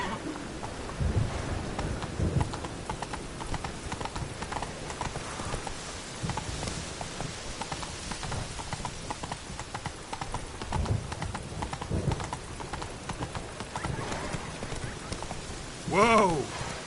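Roach, a horse in The Witcher game, gallops with steady hoof clip-clops over ambient rain and game sounds, a neigh rising near the end while someone talks over the hooves.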